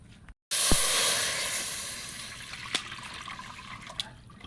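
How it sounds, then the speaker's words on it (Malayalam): Thin coconut milk is poured into a pot of rice and cowpeas on an outdoor stove: a steady, close, rushing liquid pour that starts abruptly after a brief gap and runs on with a few small splashes. "നമുക്ക് ഈ പാല് അതിലോട്ട് ഒഴിക്കാം"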